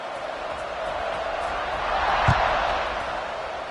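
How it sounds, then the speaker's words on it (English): A stadium crowd in an American football video game buzzes as a steady broadband roar, swelling slightly midway as the kickoff nears, with a game commentator talking over it. "this crowd is buzzing after that last score"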